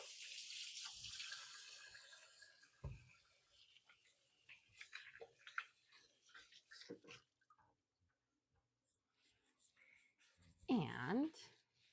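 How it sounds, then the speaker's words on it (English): Water running from a kitchen tap while hands are washed, a faint, hissing stream heard early on, then a brief louder gush near the end, with quiet kitchen movements in between. "I'm going to wash my hands real quick."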